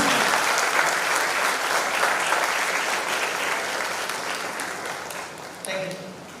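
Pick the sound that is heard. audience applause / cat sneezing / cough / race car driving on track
audience applause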